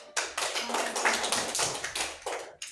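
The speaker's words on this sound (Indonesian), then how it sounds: "berikan tepuk tangan untuk" Applause from an audience at a school lesson, a crowd clapping in quick uneven bursts that rise and dip for a few seconds, fairly close and with no talking.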